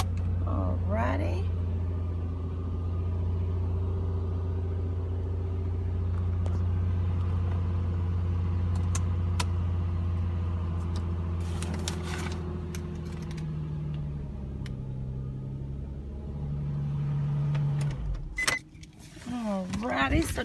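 A 2008 Nissan 350Z with its engine running at a steady low idle throughout, a deep constant hum with a slight rise in the middle, under clicks and rattles of keys and door mechanisms.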